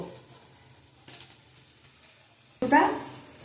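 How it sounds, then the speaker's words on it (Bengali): Water spinach (kolmi greens) fries with poppy seeds and grated coconut in a home kitchen pan. Quiet faint clatter is followed near the end by a sudden short, loud burst of sizzling as the greens are stirred. "কলমি শাকটা ভাজা করছি"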